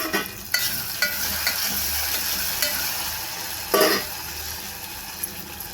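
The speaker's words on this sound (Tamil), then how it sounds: "வெங்காயம், தக்காளி, கருவேப்பிலை, பூண்டு, இஞ்சி பூண்டு பேஸ்ட்டு எல்லாம் போட்டு நல்லா வதக்கிக்கணும்" Onion, tomato, curry leaves, garlic and ginger-garlic paste sautéing in a pan for a sundakkai kulambu, giving a steady close sizzle with a few louder scraping stirs and no talk.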